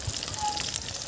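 Cumin is added to a hot pan of frying spices, producing a brief, steady, close sizzling hiss.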